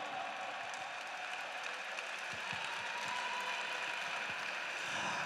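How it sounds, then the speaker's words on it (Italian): Applause from an audience at a sports team's season presentation, a steady wash of clapping with a few louder close claps. "Ancora un grande applauso a Alessio Sabia."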